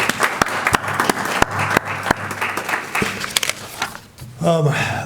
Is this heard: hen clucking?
no